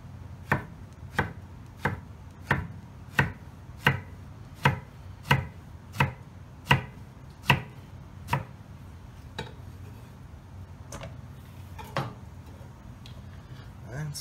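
A knife chops an eggplant diagonally on a cutting board in crisp, evenly spaced taps, about a dozen quick strokes at a steady rhythm, then a short pause and a few softer cuts, close and clear with no talking.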